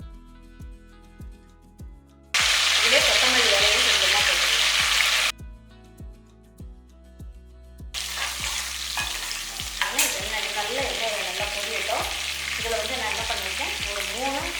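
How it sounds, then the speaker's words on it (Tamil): Mint leaves and spices fry in hot oil for vegetable biryani, loud bursts of sizzling that start and stop over a steady, rhythmic music beat. "ஒரு கை அளவுக்கு புதினா இதை எடுத்து இந்த எண்ணெய் கொள்ளையே போட்டுடலாம்"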